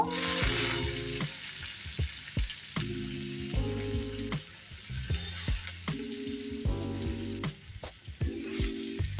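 Snake gourd frying with garlic in a kadai, stirred now and then: a steady sizzle runs throughout, punctuated by repeated scraping and clinking of a spatula against the pan, with no voices.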